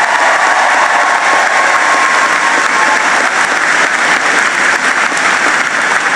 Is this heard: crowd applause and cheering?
yes